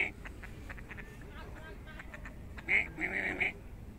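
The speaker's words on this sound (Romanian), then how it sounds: "Ia să vedem păsăricile astea care se ceartă aici pe lac." Ducks on a lake let out a short burst of several loud, nasal quacks near the end, following quieter background chatter and water noise; people talk nearby.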